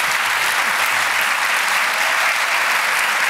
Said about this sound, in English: That's a cue for you to applaud if you actually could.